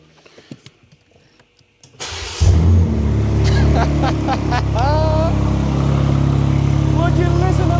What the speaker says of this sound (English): Oh yeah, that engine's good, isn't it? Runs perfectly.